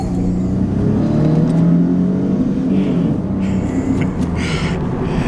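A 1998 Chevrolet Camaro accelerates close by, its engine droning loudly and steadily with a rising whir throughout and no talk.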